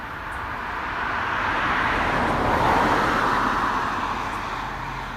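A car rolls slowly past a home yard, its broad road rumble swelling to a peak mid-pass and then easing off, steady and moderately close, with no voices.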